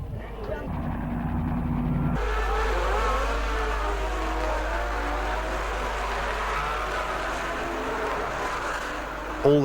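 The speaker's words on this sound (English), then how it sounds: "All the cars got away cleanly." Massed race cars roar away from the start of the Belgian Grand Prix at Spa-Francorchamps, a loud, continuous, grainy engine din with shifting revs that swells after a brief quieter opening and holds throughout.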